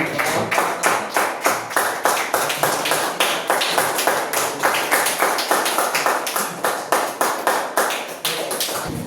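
A classroom group claps hands together in a steady, brisk rhythm of sharp, loud claps that keep going without a break and with no talking.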